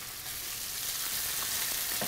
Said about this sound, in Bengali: পেঁয়াজটাকে আমরা ব্রাউন কালার হওয়া পর্যন্ত ভাজবো।